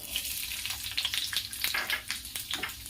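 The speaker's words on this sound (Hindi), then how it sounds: "तेल अच्छी तरह गर्म हो चुका है। इसमें ये प्याज डाल दूंगी" Chopped onion sizzles and crackles steadily in hot oil while masala paneer is cooked, with a close, continuous frying hiss and occasional brighter pops and spatters.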